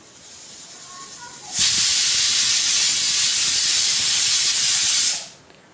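A pressure cooker boiling potatoes in water on a stove lets out one loud, sustained steam whistle-hiss lasting several seconds, starting abruptly and cutting off, close by over a quiet background.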